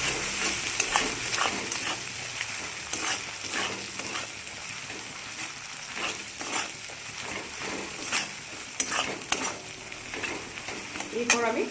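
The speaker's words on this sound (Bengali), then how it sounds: "লাল লঙ্কার গুঁড়ো, ঝাল লঙ্কার গুঁড়ো। দিয়ে আমি ভালো করে কষিয়ে নেব।" Bhetki fish curry with red chili powder being sautéed in a pan: steady sizzling and frying with repeated stirring and scraping strokes, moderately loud and close, no talking.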